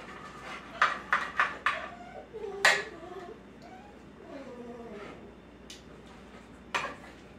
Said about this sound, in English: I've got one dog crying.